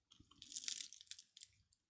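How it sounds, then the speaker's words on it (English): A bite into thick, airy, bubbly pizza crust gives a close, crisp crunch followed by a few quick crackling chews, bright and brittle against silence with no talk. "Well, listen to that crunch."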